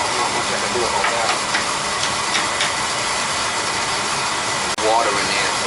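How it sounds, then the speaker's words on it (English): A leaking Utica boiler makes steam, giving a steady, broad hiss that runs throughout, with faint intermittent ticks and a brief dropout near the end. "Making steam in there, so not much I can do about that."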